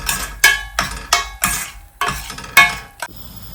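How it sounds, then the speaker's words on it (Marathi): Red chili powder being sautéed into masala in a pan for puranpoli dal, a series of sharp scraping, clinking spatula strokes against metal at a steady rhythm, close and fairly loud, with no talking. "त्याला छान परतून घेऊया."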